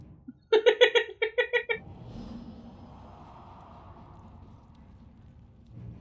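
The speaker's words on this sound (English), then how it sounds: "Cat!" In Dungeon Siege 3, a cat gives a quick run of repeated high meows, loud and close, followed by a low steady game-world background hum.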